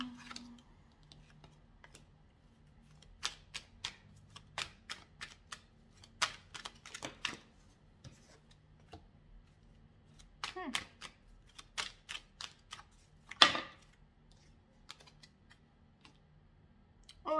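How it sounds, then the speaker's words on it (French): Tarot cards are shuffled and laid out on a table, a scattering of quiet, crisp snaps and slaps coming in irregular clusters, with one louder card slap near the end and soft background hum. "Je vais rajouter des cartes."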